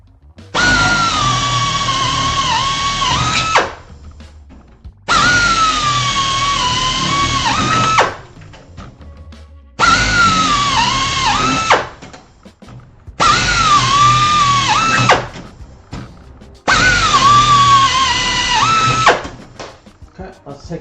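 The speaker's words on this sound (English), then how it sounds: "It is drilling through some pretty thick metal" Power drill boring through thick metal on an airplane aft fuselage, in five loud, close bursts of about three seconds each with short pauses between, the motor pitch wavering as the bit bites.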